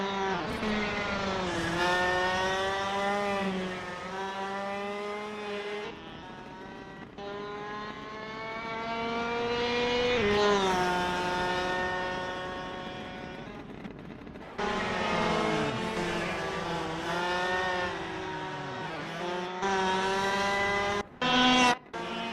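High-revving KZ shifter karts on a club race in the racing game Assetto Corsa at Royal Raceway, engines wailing loudly and steadily, pitch rising through gears with sudden drops at shifts, nearly continuous for the whole stretch.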